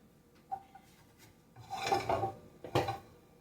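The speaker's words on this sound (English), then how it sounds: "I am just sauteing the mushrooms" Mushrooms being sautéed in a pan for chow mein, heard as a few quiet scrapes and clinks followed by two louder rasping spatula strokes against the pan, close and without talk.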